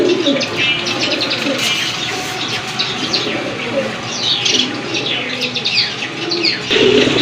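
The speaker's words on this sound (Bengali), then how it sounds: "আরেক জোড়া লাল গোল্লা কবুতর, লাল গিয়ারের কবুতর, মার্শাল্লাহ নাইরা কবুতর" A pair of deep red pigeons coo steadily and close by, with soft chirps and other bird calls layered over a busy, continuous background of birdsong and a brief flutter.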